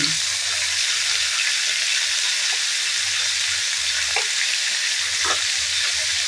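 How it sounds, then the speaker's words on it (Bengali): Tamarind frying with turmeric and salt in a pan, a steady broadband sizzle that holds evenly throughout with a few faint clicks of stirring and no talk. "এইটাকে ভালো করে ভেজে নেব তেঁতুলটা এইভাবে কষে দিয়েছি"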